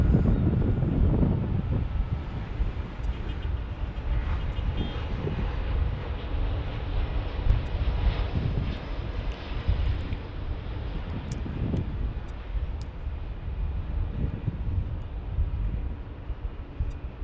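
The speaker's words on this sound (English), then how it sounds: "we're going to Honolulu, so it's another heavy alert for this 767" A Boeing 767 jet airliner at LAX, its engines roaring steadily and loudly with wind buffeting the microphone, a sustained rumble with no speech.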